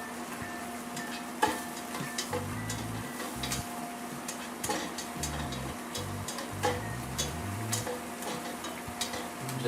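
Bacon rendering in a pan for fish chowder, a faint, low sizzle with scattered ticks and pops under a steady hum and some low tonal noise.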